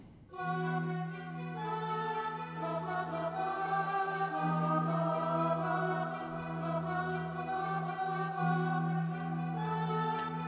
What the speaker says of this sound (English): The instrument you're hearing is a Mellotron, which is basically like a vintage sampler